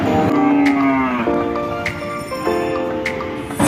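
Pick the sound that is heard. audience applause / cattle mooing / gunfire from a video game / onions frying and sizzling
cattle mooing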